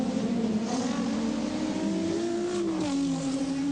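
1987 touring car race on the Wellington street circuit, with Ford Texaco and BMW cars. Loud, sustained engine roar whose pitch climbs and shifts as cars accelerate close by, with no voices over it.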